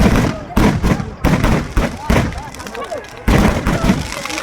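Fireworks explode at a Saraswati Puja festival fair, a rapid series of loud, sharp bangs roughly every second, close by and echoing over background crowd noise.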